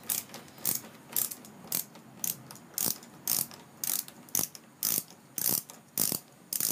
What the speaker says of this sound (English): So what you're gonna do is take off these three nuts right here.